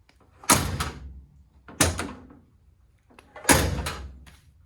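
A car door with a polished original one-finger-pull handle is opened and shut three times, each a sharp latch thud followed by a short rattling decay, close and loud with no talking.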